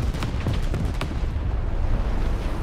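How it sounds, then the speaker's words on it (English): Bomb blast in the War Thunder low-tier battle, a burst of heavy booming explosions with rumbling low-end debris that stays dense and loud throughout, no voices over it. "the size of that bomb that's dropped on that guy"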